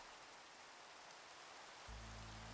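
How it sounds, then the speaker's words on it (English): Steady hiss of falling rain in the video game Minecraft, soft and continuous throughout with a low hum joining near the end. "okay, it's raining."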